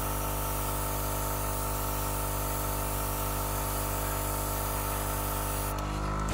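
A steady airbrush spray hisses continuously while a green camouflage coat goes onto a batch of twelve 1/72 scale vintage Spitfire models, a close, even hiss with a faint compressor hum, cutting off abruptly at the end.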